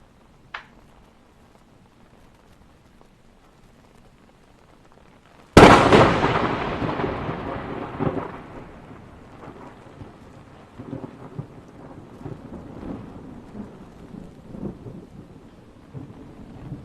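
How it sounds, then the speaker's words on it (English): A sudden, very loud thunderclap from a nearby lightning strike near the White House cracks after near silence, then rolls into a long, fading rumble with rain-like hiss. "lightning was starting to strike near the White House"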